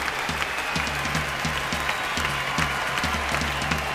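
Sustained applause fills a ballroom dancing competition hall at the 2005 European Standard Championship in Russia, dense and steady with a rhythmic music beat pulsing underneath.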